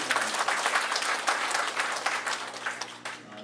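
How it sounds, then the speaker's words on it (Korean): Sustained applause from an audience at a Korean association's anniversary ceremony, dense steady clapping that holds at full strength before tapering slightly near the end. "큰 박수 드립니다"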